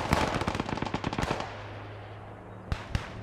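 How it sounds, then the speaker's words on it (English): Artillery barrage and gunfire in the PlanetSide 2 video game, a rapid burst of loud explosive shots for over a second, fading into a rumbling tail, then two more sharp blasts. "Big barrage coming in from King of the Windmill,"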